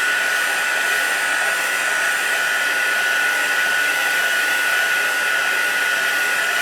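A heat tool blows steadily and loudly at close range while it dries a stamped, glittery stained-glass style card, producing an unbroken whooshing hum from start to finish.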